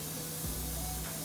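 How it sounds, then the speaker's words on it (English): Non-stick baking spray hisses from an aerosol can into a loaf pan, a steady close broadband spray lasting about a second with no talking. "You're going to take your baking spray, kind of like pan spray. It's a non-stick baking spray."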